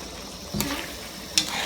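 Wet food drops into hot oil in a home kitchen and begins to fry, giving two soft sizzling bursts over a quiet, steady hiss.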